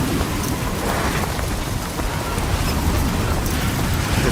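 A heavy rainstorm in the video game Death Stranding 2, a dense, loud, unbroken downpour roaring across the whole stretch with low rumbling underneath.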